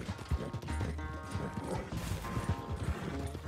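Horse hooves clip-clopping in Red Dead Redemption 2, a steady run of rhythmic hoof falls close by, with faint farm-animal ambience and no clear talk.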